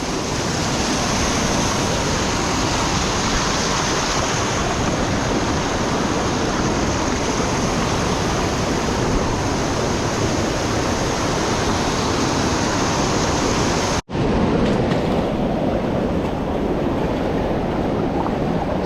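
A steady, loud rush of a river waterfall on the Goat Pass route plays from close range, a continuous broadband roar with one brief cut partway through and no voices.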